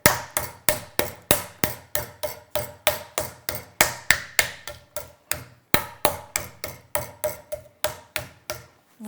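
A mallet pounds a trimmed chicken breast flat in a steady run of sharp, close thuds, about three to four blows a second with short pauses between bursts.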